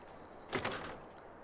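A door swings open in the video game Fallout: New Vegas, a single short mechanical creak and thud heard alone at close range.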